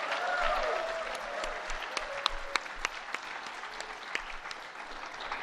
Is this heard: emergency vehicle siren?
no